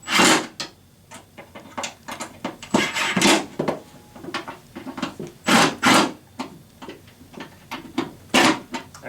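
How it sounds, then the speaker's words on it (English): Screws being snugged up by hand into the frame of a flat-pack wall kitchen cabinet, giving a close series of sharp woody clicks and creaks in an uneven rhythm, with no talking. "And snug up all the left and right screws."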